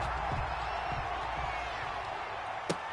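Stadium crowd in Madden NFL at a Cleveland Browns versus Denver Broncos matchup, a steady loud roar of cheering throughout with one sharp thump near the end.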